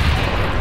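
A single grenade detonation in PlanetSide 2, a short, loud, low booming burst with no talk over it.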